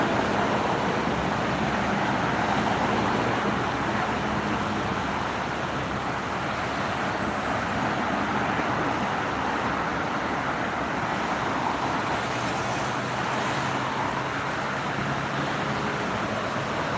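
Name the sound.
traffic of large vehicles on Jakarta–Bekasi toll road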